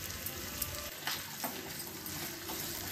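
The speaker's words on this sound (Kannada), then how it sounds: "ಒಣಮೆಣ್ಸಿಕಾಯಿನ ಹಾಕ್ತಾಯಿದ್ದೀನಿ. ಹಾಗೆ ಸ್ವಲ್ಪ ಕರಿಬೇವು ಹಾಕೋಣ." Dried red chillies and curry leaves frying in hot oil in a pan, a dense continuous sizzle with faint stirring scrapes, close and steady with no talk.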